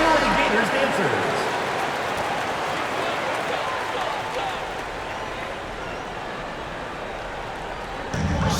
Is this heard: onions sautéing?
no